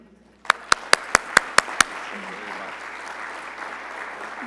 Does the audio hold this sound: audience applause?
yes